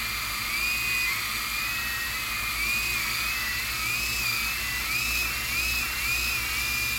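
E-flite Blade mcX toy helicopter with its rotors spinning, a thin high whine that wavers slightly in pitch, steady and close, with no talk.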